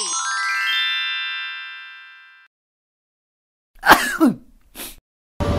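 A single person's sneeze bursts out after a long stretch of silence, sharp and close, followed by a brief trailing breath and a short final noise; a sustained tonal chime rings before it.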